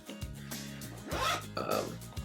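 The zipper on the back pocket of a work bag is pulled in a few close, rasping strokes, each a second or less.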